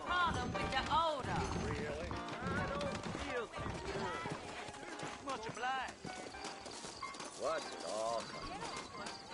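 Horse hooves clip-clop in a steady rhythm in Red Dead Redemption beneath continuous talking, with the horse sounds fairly close but partly masked by the voices.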